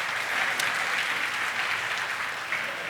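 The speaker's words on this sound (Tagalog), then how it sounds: "Pastor Hector Maido, palakpak" A church congregation at an anniversary service claps for a pastor, a steady, full round of applause with an even texture and a few crisper claps rising above it.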